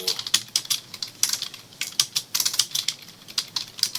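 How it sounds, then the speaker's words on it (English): Rapid keystrokes on a computer keyboard as a command is entered, a close, fairly loud run of uneven clicks in bursts with short pauses, no voice over them. "so now what we'll do, we'll type GC Classic"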